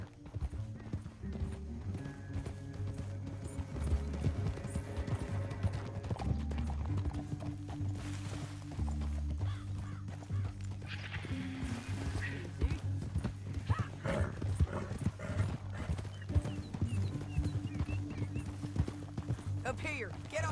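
Horse hooves clip-clopping steadily while riding in Red Dead Redemption 2, a continuous rhythmic trot under a music score, with occasional whinnies and characters talking over it.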